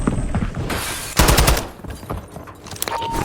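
Close-range gunfight in a first-person shooter video game: rapid automatic bursts and sharp shots, a loud cluster near the middle, then scattered quieter reports.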